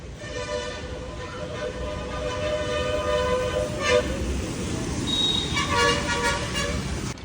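A Vande Bharat express train rumbles past with a steady roar as a horn sounds in long tones, loud and close, with rhythmic wheel clatter underneath.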